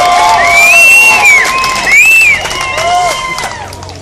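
Crowd at a 2013 car show in Richmond, BC cheers and whoops loudly for a Camaro, with shrill rising shouts and whistles over a dense, steady roar of many voices for the whole stretch.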